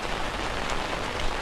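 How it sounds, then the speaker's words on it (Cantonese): Heavy rain pours down outdoors at Go Park in Hong Kong, a dense, steady hiss of drops drumming on surfaces, close and loud without a break. "因為實在太大雨"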